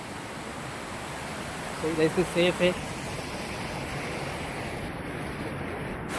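River water rushes steadily across a road crossing on a camper van trip, a constant broadband wash filling the whole scene, with a brief spoken remark over it.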